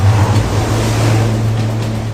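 Ocean waves break against rocks with a loud, rumbling roar of surf, a continuous heavy wash of water with deep low churning throughout and no voices.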